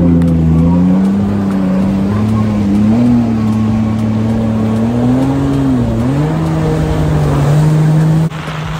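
A jet ski engine drones steadily and loudly close by as the craft runs across open water, its pitch wavering slightly with throttle changes before dropping off near the end.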